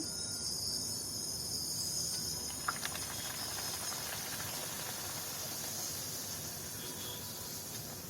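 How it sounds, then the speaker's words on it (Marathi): Puri frying in hot oil over a medium flame gives a steady, bright hiss and crackle throughout, with a faint clink partway through. "आता ते आपण फ्राय करायला घेऊया। मीडियम फ्लेमवर फ्राय करायचे आहे।"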